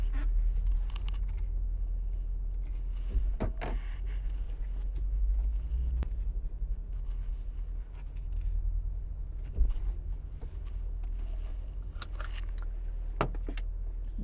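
A 2015 Mercedes-Benz G550 Designo 4Matic rolls slowly into a showroom, its engine a constant low rumble with occasional light clicks and knocks, and no one speaking.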